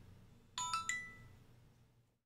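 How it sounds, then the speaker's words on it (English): A phone gives off a short bright chime of three quick ringing tones that then fades into quiet room tone. "this phone's getting a little too loud"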